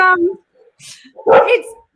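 A dog barks loudly and close in a short burst of a few yips mixed with a person's voice during an online panel discussion.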